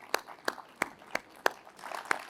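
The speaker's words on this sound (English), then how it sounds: "Please give yourselves a huge round of applause" Sparse, individual handclaps sound at an auto industry awards ceremony, about six spaced claps in a loose rhythm, fairly close and moderate in level, with no voices over them.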